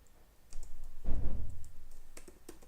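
Code typed on a computer keyboard, sparse close clicks of individual keys with a low thump near the middle and a quick run of taps toward the end.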